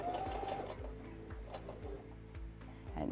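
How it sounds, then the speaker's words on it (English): A sewing machine stitches a fabric border onto the very edge of a kitchen towel, giving a steady, rapid mechanical thrum with a repeating beat, close and continuous, with a few light clicks on top. "sew on the very edge of the towel"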